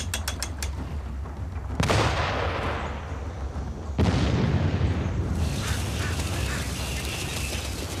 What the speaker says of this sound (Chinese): a fire of shell was opened upon the thickets